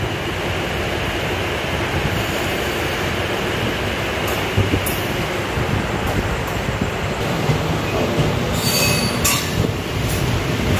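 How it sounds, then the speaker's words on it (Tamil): The Karaikal Express runs steadily along the tracks toward Velankanni, a loud continuous rumble and wheel squeal heard from aboard the train, with no voices. "4:15 நாகப்பட்டினமே கிளம்ப வேண்டிய ட்ரெயின் 4:30 மணிக்கு வந்து கிளம்பிடுச்சு"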